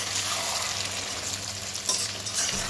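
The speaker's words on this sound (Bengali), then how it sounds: "এবার আমি মাংসটা আমি মশলার মধ্যে দিয়ে ভালোভাবে কিছুক্ষণ কষিয়ে নেব" Mutton pieces being sautéed in a spice masala over low to medium heat, giving a steady close sizzle with soft stirring scrapes throughout and one brief louder scrape partway.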